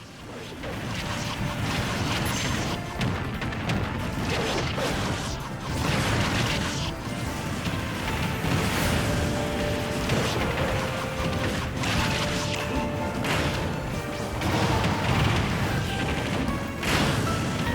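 Chaotic, dense attack effects from Super Smash Bros Ultimate, with crashes, booms and whooshes piling on top of game music at a steady, loud level, with no quiet gaps.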